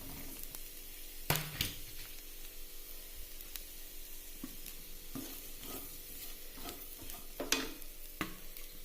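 Okra (ladies' finger) with coconut being stirred and fried in a pan for a poriyal, giving a steady soft sizzle broken by occasional sharp scrapes and clacks of a spoon, close by with no voices.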